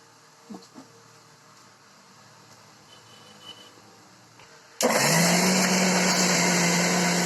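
A kitchen mixer grinder whirs through a chicken kabab mixture, switching on abruptly after a quiet stretch of faint handling clunks and running as a loud, steady high-pitched whine to the end.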